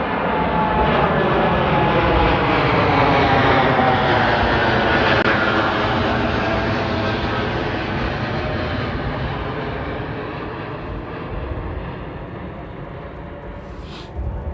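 A fixed-wing jet airliner passes at Amsterdam Airport with a loud, steady engine roar that slowly fades as it moves away across the whole stretch, with no talk over it.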